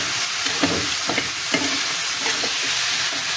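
Bitter gourd and potato frying in a pan, with a steady sizzle and repeated scraping strokes of a spatula stirring the vegetables at close range.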